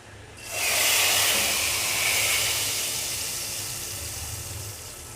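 Hot oil with crackled cumin seeds poured into moong masoor dal, a sudden loud sizzle that surges in and slowly fades as a steady hiss, with no talk over it.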